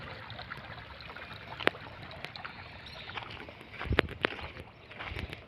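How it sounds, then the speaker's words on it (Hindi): Water flowing out along a pilgrimage path near a Narmada riverside temple in Madhya Pradesh, a soft trickling stream with scattered close splashes and clicks, fairly faint and without talk. "यहाँ से भी जल निकल रहा है।"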